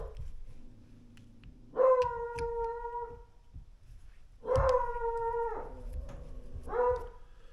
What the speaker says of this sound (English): the doggy has got something going on there